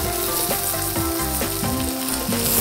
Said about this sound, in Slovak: Pokiaľ je pretlak orestovaný, tak tam prilejeme suché červené víno.